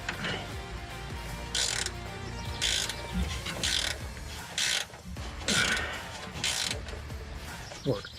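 A hand ratchet works loose 15 mm nuts on top of air bags being fitted to a 2007 GMC Sierra 2500 Duramax, giving repeated bursts of rapid metallic clicking, up close and moderately loud, with short pauses between strokes.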